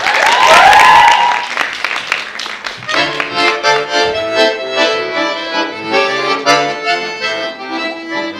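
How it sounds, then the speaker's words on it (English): An audience gives a round of applause for the performer Yaroslava, loud clapping at first that soon gives way to music. "a round of applause for Yaroslava"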